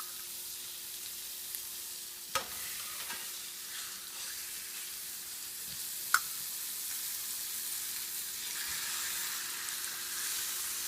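Continuous hissing sizzle of rib eye steaks searing in hot butter in a pan, steady and close, with a couple of sharp clicks and pops along the way.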